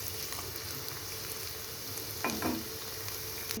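Bitter gourd chips fry in hot oil with a steady, close sizzle, and a brief clatter of stirring breaks in partway through.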